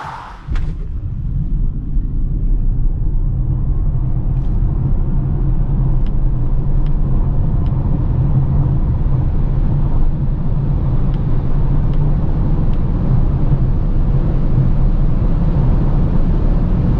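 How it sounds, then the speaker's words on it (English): Polestar 2 electric car with 408 hp under full launch-control acceleration, a steady loud low motor and road rumble building and holding throughout with faint high whine, no talking. "Now see how fast the Polestar 2 goes"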